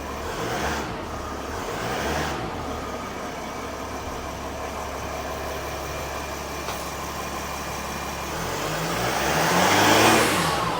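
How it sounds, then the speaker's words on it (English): A 2012-2016 Mercedes-Benz GL 350 (X166) with the OM642 diesel engine runs steadily, then revs up near the end, a loud, continuous close-up engine sound with no talking. "Rev the engine."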